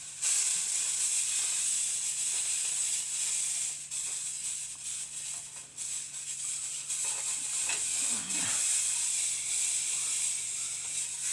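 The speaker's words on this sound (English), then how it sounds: "The sizzling is a nice sound." Food sizzles steadily in a hot pan, a continuous bright hiss that swells and dips slightly, with a faint low hum underneath.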